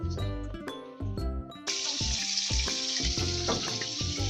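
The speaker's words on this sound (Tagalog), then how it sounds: "Pipirito na ako. Igigisa ko na yung kalabasa." Squash (kalabasa) frying in a pan, a steady bright sizzle that swells midway, with clinks of utensils and a low musical background.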